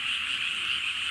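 A chorus of frogs croaks along a cherry-blossom road in Isumi, Japan, forming a dense, continuous high-pitched trilling wall of sound with no talk.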